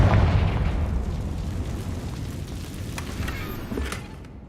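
Confringo spell explosion in the video game Hogwarts Legacy, a broad, rumbling blast that decays slowly into a low, sustained roar with a few faint crackles, loud and alone.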